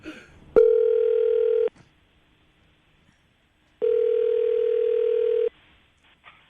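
A telephone ringback tone sounds twice, each a steady electronic buzz lasting over a second, separated by a silent pause.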